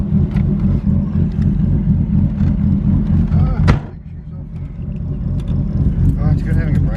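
A loud JDM car out for a quick run around the block on a public road, its engine giving a deep, pulsing rumble that dips briefly mid-way and then builds again, with voices talking over it.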